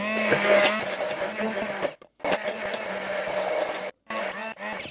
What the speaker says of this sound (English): So let's get those blended up.